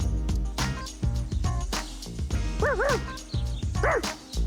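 A person imitates a dog, giving a run of barking and yipping sounds with a couple of whiny, whimpering notes, loud and close.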